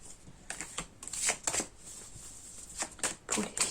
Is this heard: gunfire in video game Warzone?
no